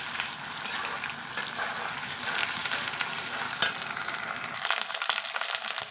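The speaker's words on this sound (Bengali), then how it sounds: "এই যে দেখো মশলাটা কিন্তু এবার সুন্দর করে কষাতে হবে" Spices frying with fried potatoes and onions in a pan, a dense, continuous close sizzle with steady crackle and occasional stirring, no voices.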